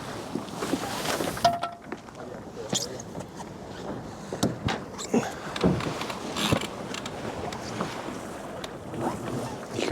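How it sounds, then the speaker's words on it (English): A wooden Woy 26 yacht glides along in almost no wind, with a steady soft wash of water along the hull and light breeze noise on the microphone, constant and close throughout. "And yet we are slipping along already."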